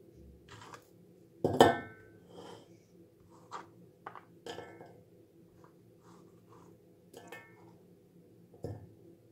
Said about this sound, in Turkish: Şimdi tencereye koyacağım.